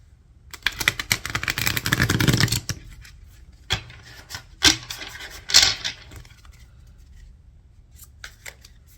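A deck of favorite playing cards shuffled by hand several times, producing bursts of crisp riffling and flicking close by, with short pauses between passes and no voices.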